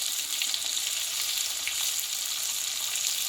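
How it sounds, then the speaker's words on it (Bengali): A spice paste of ground ginger, green chilli and cumin with chopped tomatoes and turmeric fries in a pan, giving a steady, dense sizzle that holds evenly throughout with no talking. "মশলাটা সম্পূর্ণ একসঙ্গে কষিয়ে নেব"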